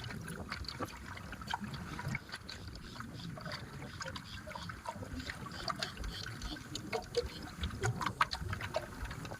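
Flood water flows and splashes close by, an uneven, gurgling rush with small sloshes and trickles throughout, fairly faint and with no clear talk.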